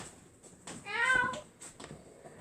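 A domestic cat meows once, a clear rising-and-falling call close by, set against quiet room noise with faint shuffling before and after.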